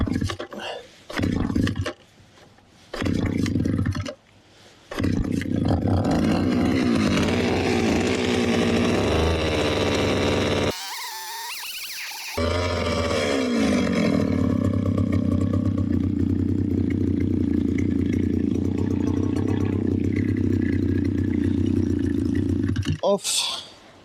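A chainsaw engine sputters through a few short start attempts, then catches and runs loud and steady for a long stretch, dipping briefly before revving on. A voice talks over it at times.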